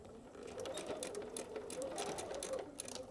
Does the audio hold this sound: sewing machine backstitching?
yes